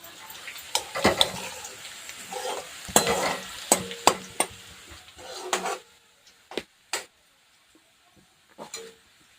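Cumin seeds roasting in a pan for methi bhaji, soft crackle and intermittent scraping stirs near the mic, bursts of activity that thin out into brief isolated clicks and near silence.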